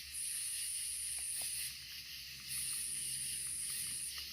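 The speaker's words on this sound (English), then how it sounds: "got the spirit box here, and got it hooked up." Steady loud static hiss from a spirit box played through a Bluetooth speaker, running continuously with a brief dip in the middle, with no voices.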